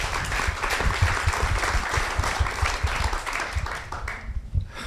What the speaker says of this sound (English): So let's have a round of applause for our panelists.